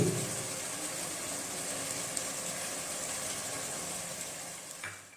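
Vegetables with coriander, turmeric and green chillies fry in a pan, giving a steady, even sizzle that carries on without a break.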